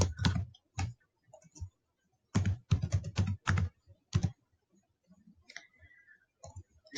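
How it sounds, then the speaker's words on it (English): An address is typed on a computer keyboard in short bursts of close, crisp keystrokes separated by pauses, with a quiet click near the end. "Type in the address."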